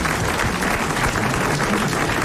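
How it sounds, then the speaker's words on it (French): A TV studio audience applauds, a loud, dense, continuous wall of clapping held at an even level throughout. "vous allez applaudir Madame Fontaine de Templeuve dans le Nord"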